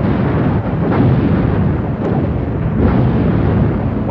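Cartoon explosions roar as storage silos are blown apart, a dense, continuous rumbling blast that stays loud and steady with no talking over it.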